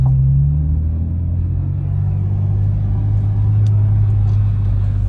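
A BMW 318ti drift car's engine runs with a loud, steady low rumble, idling and revving gently up close, with no talking.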